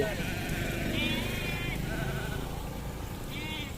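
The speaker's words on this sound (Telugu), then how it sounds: "చూస్తారా గొర్రెలు" Sheep bleat in two wavering, drawn-out calls, one early and one near the end, at moderate distance over a steady outdoor background rumble in an evening countryside setting.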